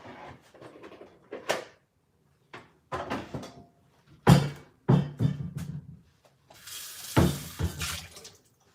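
Water splashes and runs in a kitchen sink as cherry tomatoes are set to soak, in scattered short bursts mixed with clunks of bowls and cupboard sounds, fairly close and without talk.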